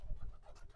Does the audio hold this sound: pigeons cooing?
yes